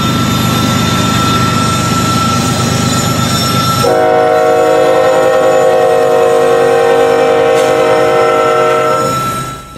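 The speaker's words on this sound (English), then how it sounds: "this Utah Belt export-loaded coal train, as it makes its way from mines in Utah to ports on the East Coast" A model railroad Utah Belt export coal train rumbles loudly along the layout, then its horn sounds a sustained chord for several seconds before cutting off.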